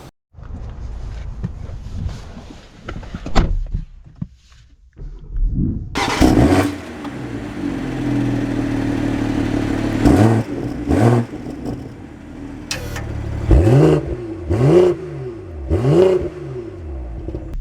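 A 2024 BMW X3 M40i starts with a short crank and settles into idle, then the engine swells through several rising revs and gear changes as it drives off, fairly loud and close, with no talk.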